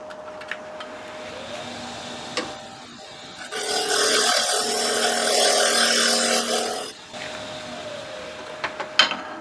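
A ball gouge cuts into a wooden 4x4 being shaped into a mallet, a harsh grinding whir rising for about three seconds between quieter stretches with a faint steady hum and a few sharp knocks.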